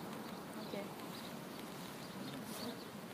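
Honey bees buzz steadily at a hive during hive maintenance in Haute-Savoie, a continuous close drone that fills the whole clip and stays at an even level throughout.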